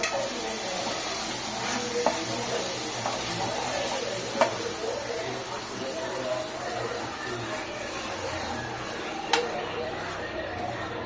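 Egg gravy bubbling and sizzling in a pan as the oil separates, a continuous soft hiss with occasional small pops and clinks, while a person talks over it.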